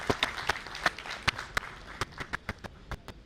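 Sparse, uneven clapping from an audience at a management association event, a few sharp individual claps that thin out and scatter rather than building into full applause.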